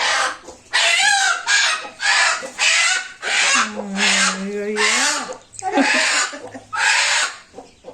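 Loud, repeated bursts of squawking and clucking from a native country chicken close by, each harsh call separated by brief pauses.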